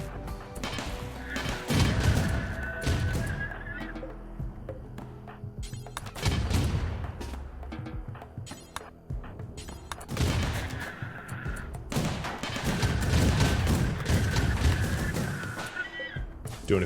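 Turrets open fire in a RimWorld base defense, loud bursts of rapid gunfire and impacts clustering in waves around two, six to eight, and twelve to sixteen seconds, with a steady background hum between volleys.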